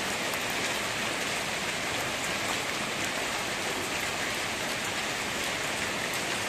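Steady rain falls on a rainy day as an even hiss of drops on surfaces, soft and constant throughout, with no voices.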